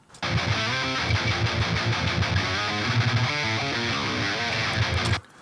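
Heavily distorted electric guitar chords through the Grenosphere amp simulator's In Your Face preset ring out loud and dense for about five seconds, then cut off abruptly into silence.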